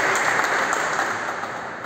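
Audience clapping hands at a Pi Network business presentation, a brief steady burst of applause from a room full of people.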